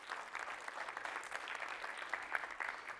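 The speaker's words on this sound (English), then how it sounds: "if you agree, go ahead and clap," A conference audience claps in response to a request, giving a brief, moderately loud burst of scattered applause that holds steady for a few seconds.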